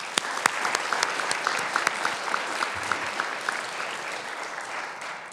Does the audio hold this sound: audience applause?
yes